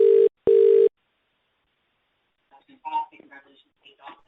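A telephone call rings out as two loud, steady tone bursts, one short and one longer, separated by a brief gap. After about a second and a half of silence, a person begins speaking.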